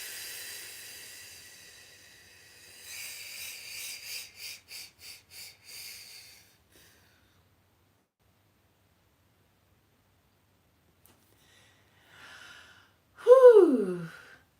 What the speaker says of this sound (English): Take a nice deep breath in through the nose. Hold it at the top. And then when you're ready, exhale through the mouth.